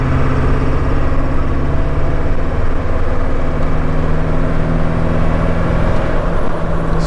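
An OBS Ford Powerstroke diesel pickup with a KC300X turbo rolls into part throttle in 5th gear near 50–55 mph, just under 2,000 RPM, making a loud, steady, close engine drone with a deep rumble that holds throughout.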